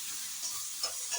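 Tomatoes cooking in masala in a pan give a soft, steady sizzle and frying hiss with faint stirring scrapes, close and unbroken, no voices.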